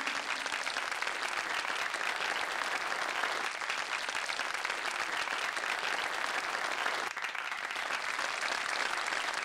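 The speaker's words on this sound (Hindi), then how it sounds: "तालियों से स्वागत कीजिए।" Sustained, dense applause from a large audience welcoming the show stopper at a fashion show, steady and loud for the whole stretch with no break.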